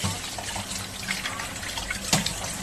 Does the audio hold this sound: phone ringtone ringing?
no